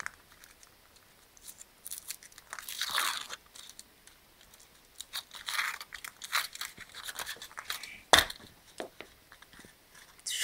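Foil wrapper of a Chupa Chups chocolate ball (How to Train Your Dragon 2 series) being torn open and the chocolate shell cracked apart by hand: close, irregular crinkling and crackling with sharp snaps, loudest near the end, no voices.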